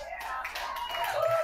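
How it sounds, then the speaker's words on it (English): An audience at a live comedy show in a bar-style venue called Long Shots claps in a dense, steady patter of many hands, with a voice faintly mixed in. "Round of applause for live comedy right here at Long Shots, everyone."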